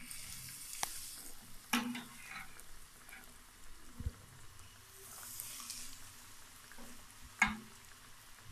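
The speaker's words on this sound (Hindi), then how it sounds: "बाकी फ्राई कर लेंगे।" Potato donuts fry in hot oil with a faint, low bubbling sizzle, broken by a few distinct clinks and scrapes of a utensil, quiet and close with no speech.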